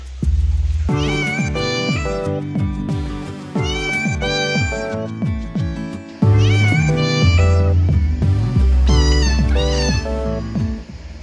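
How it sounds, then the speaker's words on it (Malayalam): A cat meows repeatedly and loudly up close, a series of drawn-out, wavering cries in several bursts with no talk over them. "അത് എവിടുന്നോ വന്നൊരു പൂച്ചയാണ്"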